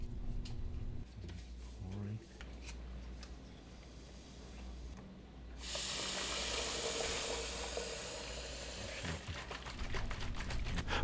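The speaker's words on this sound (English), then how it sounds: "mixing pouch A and B with water." Water pours into a container to mix Movi-Prep pouches A and B, a steady splashing rush that starts midway and runs on, loud and close, with quieter handling sounds and a voice speaking beforehand.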